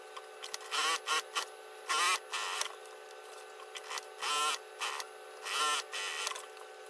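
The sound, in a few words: sewing machine stitching the sides of a fabric pouch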